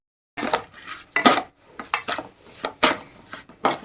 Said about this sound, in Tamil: நல்லா எல்லாம் சூட்லேயே வச்சு நல்லா கைவிடாமல் கிளறணும்.